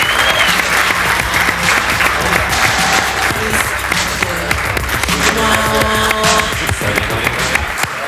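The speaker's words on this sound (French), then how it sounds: "On l'applaudit." Loud studio audience applause on a French television talk show, dense sustained clapping filling the whole stretch, with faint musical tones and voices underneath.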